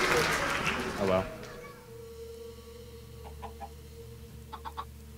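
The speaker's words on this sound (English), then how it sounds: "Oh, happy little family of chickens." Chickens in the video game Minecraft give a few short, soft clucks in two small bursts, heard after a stretch of talking over a quiet background hum.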